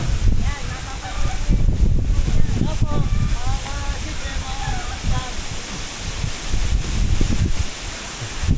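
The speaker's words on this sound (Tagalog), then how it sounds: "Baka mahulog ang lakas ng hangin." Loud, steady gusting wind roars across the microphone during a mango harvest up in a tree, with a voice talking intermittently underneath.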